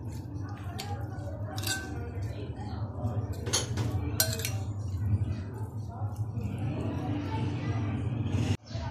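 A spoon clinks and scrapes against a bowl as an instant snack is mixed with chaat masala, with several sharp close-up taps scattered among softer stirring sounds, under a person talking.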